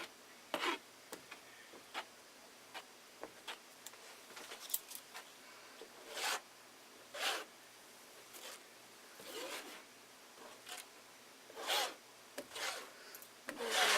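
Paint being scraped across an abstract expressionist canvas in a series of short, dry rasping strokes, irregularly spaced and fairly quiet against a faint background hum.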